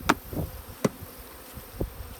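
Honey bees buzz in short bursts, with a few sharp passes close by against a quiet background hum.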